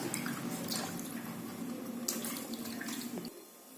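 Ripe red tomatoes are rinsed under a running kitchen tap, a steady splashing water stream that stops abruptly near the end.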